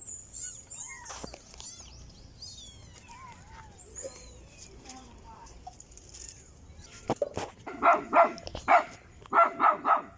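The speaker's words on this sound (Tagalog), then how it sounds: "Ba't ka nangangahol?" A dog barks in a quick series of loud, sharp barks near the end, following quieter chirping birds and faint background noise.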